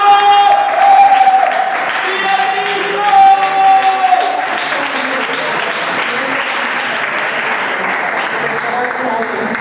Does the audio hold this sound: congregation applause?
yes